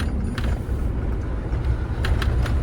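A van rolls along narrow French country roads, its steady low engine and tyre rumble running continuously and fairly loud, with a few faint rattles on top.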